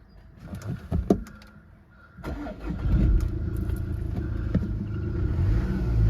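A Jaguar F-PACE 2.0 D180 diesel engine with about 101,000 miles cranks and starts after a few clicks and knocks, then settles into a steady low idle rumble, with faint bird calls in the background.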